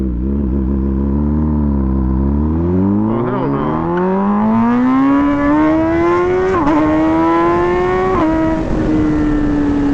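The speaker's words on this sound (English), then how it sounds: "I just want to keep riding and enjoying the sound of this bike" A Brutale 1000RR sport motorcycle with a full titanium Arrow exhaust revs up through the gears with a rising, raspy exhaust note, riding close by at night, with a brief voice over it.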